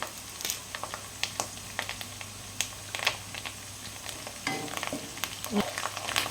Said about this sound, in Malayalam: ഇതൊന്ന് മിക്സാക്കി കൊടുക്കാം.